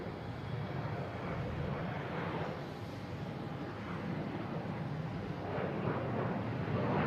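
A Delta Embraer E175 jet taking off at Boston Logan International Airport, a broad steady engine roar heard from a distance and holding level throughout, with no talk.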